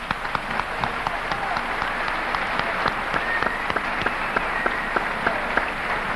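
A studio audience gives sustained, even applause for arriving guests at a 1994 Argentine radio-style show, a dense wash of clapping that continues unbroken.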